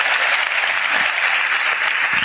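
A church congregation claps together in a dense, continuous burst of applause that fills the whole short stretch, loud and close.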